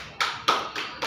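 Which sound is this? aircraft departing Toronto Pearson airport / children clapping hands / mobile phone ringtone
children clapping hands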